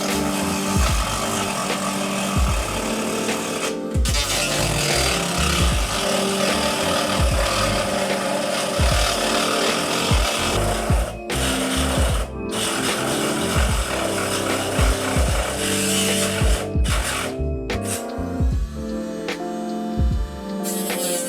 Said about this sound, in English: If not, I'm going to cut the wing with the angle grinder.